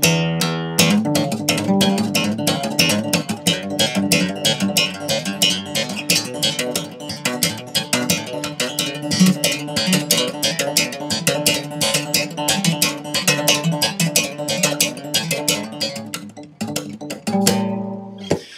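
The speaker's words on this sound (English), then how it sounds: "incorporate slapping and plucking with the right hand and hammer-ons with the left hand" Busy acoustic guitar playing with right-hand percussive slaps, quick plucked notes and left-hand hammer-ons, a steady driving rhythm throughout before a brief pause near the end.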